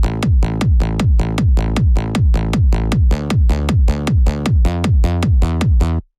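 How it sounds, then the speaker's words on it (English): A hard trance low-end group of punchy kick and sub bass, glued by a compressor, pounds in a fast, steady four-on-the-floor rhythm with a bass tail after each hit, loud and alone, then stops abruptly. "And now the low end group sounds like this."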